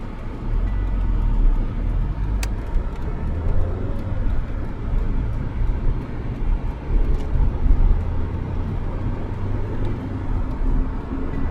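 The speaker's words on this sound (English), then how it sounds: "what you're probably hearing is wind noise" Wind noise inside an Escort driving on a concrete highway on a very hot day: a constant, loud rumbling roar with gusty swells and faint road hum throughout, and no one talking.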